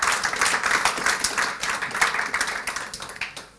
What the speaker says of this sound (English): So if you'd give them a round of applause,